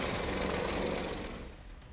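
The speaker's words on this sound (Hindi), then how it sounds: "Z-10ME-02 अटैक हेलीकॉप्टर की" A Chinese-built Z-10ME-02 attack helicopter of the Pakistani army gives off a loud, steady roar of rotor and engine noise that eases off slightly toward the end, with no voices.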